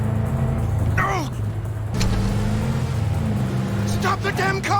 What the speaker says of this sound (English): Stop the damn car!